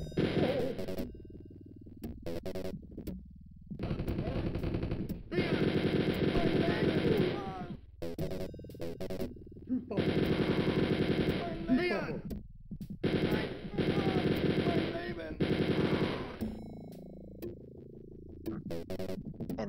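Automatic gunfire from a cheap gun in the video game Spear of Destiny, bursting in several long rattling volleys separated by short pauses, loud and close with game effects between.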